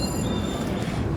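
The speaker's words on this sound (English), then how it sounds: "We got a kids train ride." A kids train ride at Six Flags America amusement park gives off a steady, close metallic squeal and rumble of wheels on rails, continuous through a brief moment with no voices.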